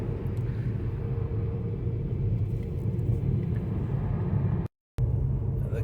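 A VW ID.3 electric car drives over an uneven road surface, giving a steady low interior rumble with road and tyre noise that runs continuously, broken only by a brief dropout near the end.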